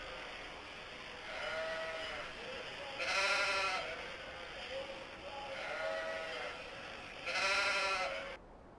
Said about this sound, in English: I want you to pay close special attention to the sheep in front of you